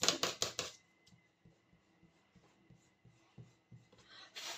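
A pencil line is rubbed out with an eraser on a paper card. First comes a burst of loud, quick rubbing strokes, then quieter intermittent scrubbing taps, and a final louder rub at the end, close up and with no voices.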